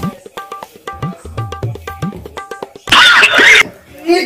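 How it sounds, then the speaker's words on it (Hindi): Coughing heard over a phone call, one short harsh burst in the middle of an electronic ringing and dial-tone sequence, close and loud through the handset. "जिसको फोन लगा रहा हूँ ये खांसने की आवाज आ रही है"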